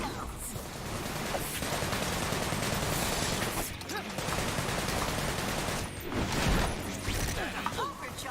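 Gunfire in Sunset Overdrive pours out as dense, continuous rapid shots with brief gaps, loud and busy with clatter mixed in.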